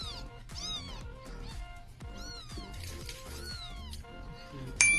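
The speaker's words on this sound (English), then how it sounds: "Mom is feeding her kittens." Several kittens meow repeatedly in quick, overlapping high cries while their mother feeds them, close by and fairly loud, with a sharp brief noise near the end.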